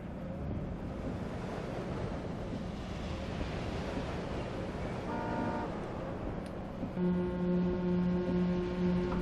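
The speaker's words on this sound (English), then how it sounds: "Oh, he's beeping as well now." Horn beeping from a truck in Euro Truck Simulator 2, a few steady tonal honks that come in repeated pulses over a constant engine and road rumble.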